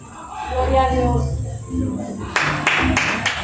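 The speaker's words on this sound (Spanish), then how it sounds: "Dale fuerte el aplauso" Church congregation starting to applaud after someone speaks over music, a burst of close clapping rising near the end and carrying on in short surges.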